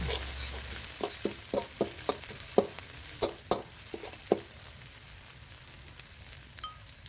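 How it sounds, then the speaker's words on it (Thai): Oil sizzles in a pan under a steady hiss as pounded chili and garlic are stir-fried, with a series of sharp scraping clacks from stirring, fairly close, then the sizzle continues more quietly. "ใส่พริกกระเทียมที่เราตำเมื่อสักครู่ลงไปผัดให้หอมครับ"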